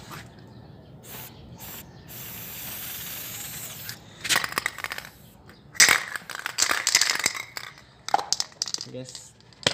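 Spray paint can nearly empty sputters out only air in short, uneven hissing bursts and crackles, close to the mic, while a person talks intermittently between the sprays.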